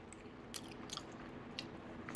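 Soft, close biting and chewing of a ham and cheese pizza topped with vegetables, with several faint crunchy bites and wet mastication over a low, steady room hum.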